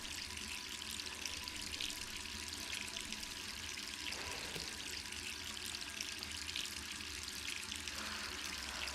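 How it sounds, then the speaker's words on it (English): In Resident Evil 3, water runs from a tap in a steady, unbroken hiss that holds at an even level throughout, with no one speaking. "Are you gonna turn off the water or?"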